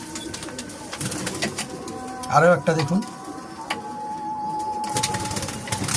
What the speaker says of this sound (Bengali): আপনাদের আজকে যা দেখাবো সব মাদা পায়রা